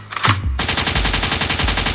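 A gunshot sound effect in a DJ mix fires as one loud blast followed by a rapid, even machine-gun-like burst that runs to the end.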